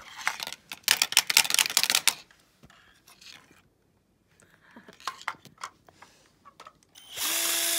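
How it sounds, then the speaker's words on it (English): A power drill runs in short, harsh bursts, loud at first and then fading into scattered whirs and clicks, with a brief pause before a strong steady whine at the end. "this is why I don't give kids a drill."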